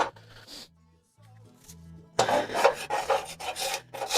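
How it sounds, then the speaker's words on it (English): A scraper rasps fly ash buildup off a part of a wood pellet stove during a deep clean: a quiet start, then a steady run of loud, close scraping strokes. "You want to scrape as much of that off as you can."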